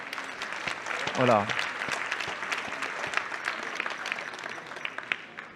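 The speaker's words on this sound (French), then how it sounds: "la première chose que j'ai envie de vous dire, c'est vous applaudir." A large event audience of thousands applauds: a thick, sustained clatter of clapping runs throughout, and a voice briefly speaks over it near the start.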